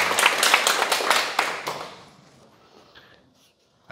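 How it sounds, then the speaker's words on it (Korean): Applause from a lecture audience, a dense burst of many clapping hands that thins out over a couple of seconds and fades to near silence. "큰 박수 한번 부탁드립니다"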